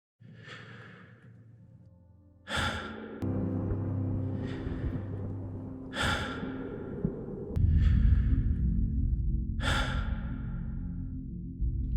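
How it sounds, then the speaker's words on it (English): Several long, airy exhales, spaced a few seconds apart, over a low steady background hum; close and fairly soft. "You'll hear various forms of exhale."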